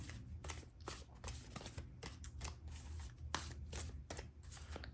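Tarot cards being shuffled by hand, a steady run of soft riffling and slapping bursts repeating close up with no talk over them.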